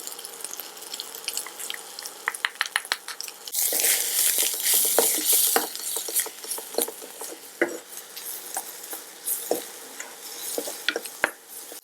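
Spices with red chilli powder and garam masala frying in a pan for tofu tacos, with crackling sizzle and repeated scraping stir strokes of a spoon against the pan, close and busy throughout.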